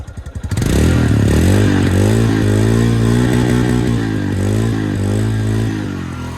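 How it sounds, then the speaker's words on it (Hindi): A Royal Enfield Himalayan Scram 411 motorcycle starts up and idles loudly and close by, its exhaust giving a steady thumping single-cylinder note with small rises in revs, heard alone with no talk. "अब इसकी एग्जॉस्ट की आवाज़ सुना देता हूँ"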